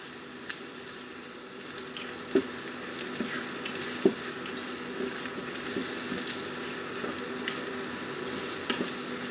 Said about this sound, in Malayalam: ഇതിലേക്ക് മുളക് പൊടി കൂടി ചേർത്ത് കൊടുക്കുന്നുണ്ട് എന്നിട്ട് നന്നായി ഒന്ന് യോജിപ്പിച്ചെടുക്കാം